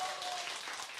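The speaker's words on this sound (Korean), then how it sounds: "자, 그럼 우리 이웅종 소장님의 오늘 멋진 강의 박수로 함께 하겠습니다." Audience applause greets a public lecture by a dog trainer in a hall, a steady patter of many hands clapping at moderate loudness for about a second.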